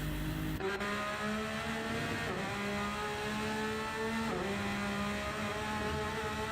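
Race cars run on the Nürburgring circuit during a 24-hour endurance race, engines droning steadily with a rising and falling pitch as gears shift, one car's note swelling and dipping as it passes, continuous and fairly loud.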